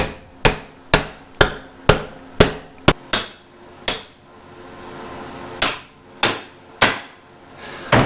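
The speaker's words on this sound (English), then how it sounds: "let's see if we can mallet that thing out of there" A mallet strikes a part repeatedly while it is being driven out of a 1974 Honda MT250 Elsinore motorcycle during a teardown, about a dozen sharp, loud, ringing blows in an uneven rhythm with a pause in the middle.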